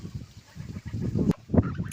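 Ducks calling nearby in a few short, raspy honks and quacks over a low, breezy outdoor background.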